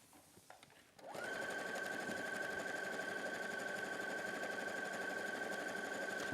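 A sewing machine stitching quilt fabric: after a quiet moment it starts up and holds a steady, loud, fast whir, close and uninterrupted, with no talking.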